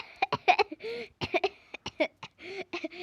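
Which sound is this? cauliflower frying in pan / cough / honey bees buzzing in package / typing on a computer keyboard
cough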